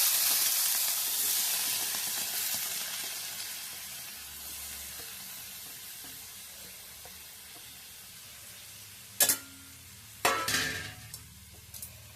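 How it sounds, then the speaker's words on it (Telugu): Tomatoes dropped into hot leftover oil for a village-style pounded chutney sizzle loudly at first, then fade to a softer fry, with a few sharp clanks of a utensil against the pan near the end. "అలా ఉన్న నూనెతోటే టమాటాలు వేసుకోవాలి"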